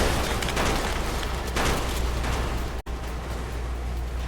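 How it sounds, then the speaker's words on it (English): A dense, rumbling roar of booming video game explosions in Fallout: New Vegas that swells and fades, broken by a brief dropout near the end. "And those are some loud explosions."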